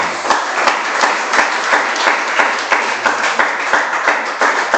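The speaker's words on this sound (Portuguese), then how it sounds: "Palmas para o Senhor Jesus." A church congregation claps together during a worship service, loud and continuous applause with a faintly regular beat running through it, and no voices on top.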